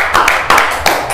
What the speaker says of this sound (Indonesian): Tepuk tangan sekali lagi buat ketiga bapak-bapak